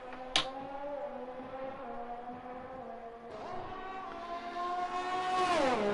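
A Formula 1 car engine at high revs on the Bahrain circuit in F1 2021, a steady whining drone that shifts pitch with gear changes and climbs at the end, with a brief sharp click near the start.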